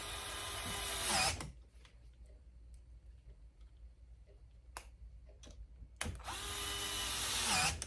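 A power screwdriver drives screws into the launch mechanism of a vintage pachinko machine, two loud whirring bursts at the start and end with quiet clicks and small taps between them.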